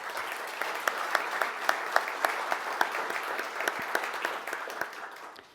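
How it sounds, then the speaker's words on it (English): Steady applause from a congress general assembly audience, with scattered sharp claps standing out over a continuous wash of clapping throughout. "a round of applause for everybody who's contributed"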